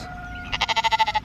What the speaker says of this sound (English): And these are the rest of the sheep.